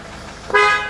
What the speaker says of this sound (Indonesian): Klakson juga mantap bunyinya.